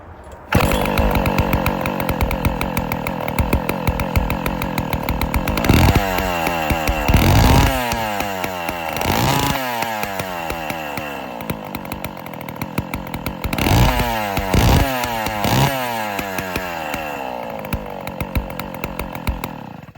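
A West Bend Power Bee 820 two-stroke engine runs after a pull start, a loud continuous buzzing drone that surges and revs up several times, with no talking.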